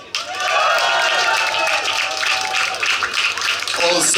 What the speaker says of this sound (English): give a massive, massive cheer for all the acts who will play tonight!